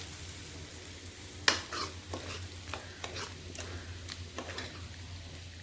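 Vegetables frying in a pan on a home stove, soft steady sizzle under repeated scraping stir strokes and light clinks, close and moderately quiet, with no voices.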